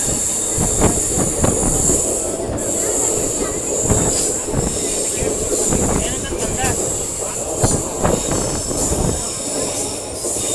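A passenger train pulls out of Gadag junction in India, heard from on board as wheels rattle and clack in an irregular rhythm, with high metallic squeals and steady rumble filling the whole stretch.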